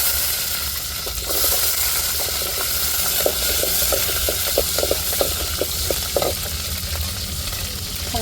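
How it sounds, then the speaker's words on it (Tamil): Whole peeled shallots frying in hot oil with curry leaves, a continuous close sizzle with a quick run of small crackles and spatula taps through the middle. "அடுத்தது நம்ம சின்ன வெங்காயம் உரிச்சு வச்சுருக்கோமோ அதை முழுசாவே அப்படியே சேர்த்துக்கிறோம்"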